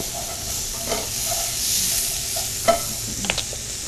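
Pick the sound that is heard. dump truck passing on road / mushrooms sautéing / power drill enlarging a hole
mushrooms sautéing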